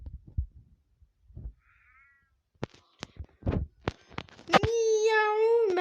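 A cat meows a few times, short calls then a long drawn-out wailing meow at the end, with a voice and scattered noises around it.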